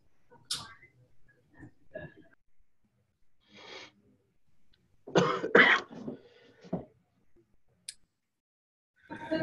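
Several harsh coughs and throat clearing from a man during a meeting, close by, in irregular bursts with quiet gaps between them.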